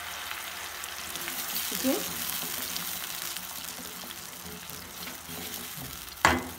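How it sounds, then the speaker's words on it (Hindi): Onion and green chili paste hitting hot oil and frying, a steady loud sizzle throughout with a brief stir and a short clatter near the end; a voice speaks briefly. "अब हम इसे, जो हमने पेस्ट बनाया था प्याज और हरी मिर्च का, वो डालेंगे।"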